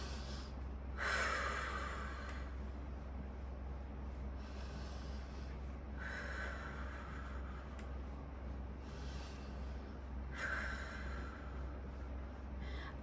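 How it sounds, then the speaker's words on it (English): Slow, deliberate breaths from an adult rocking a baby, three or four soft audible exhalations spaced several seconds apart over a low, steady background hum. "I do my mindful breathing."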